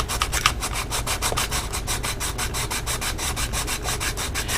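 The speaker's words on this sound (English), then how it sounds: "I can begin sanding it a bit so I can even it out" Rapid, even back-and-forth strokes of sanding on a plastic part of a Bandai HG 1/72 scale model kit, close and rhythmic, continuing steadily without talk.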